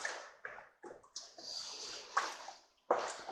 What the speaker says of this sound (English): And we're going to give this a quick stir.